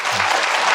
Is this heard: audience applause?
yes